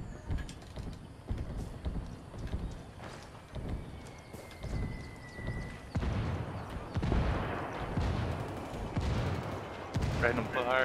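Gunfire rings out during a Ghost Recon Wildlands firefight, with scattered shots and mechanical clatter over game ambience.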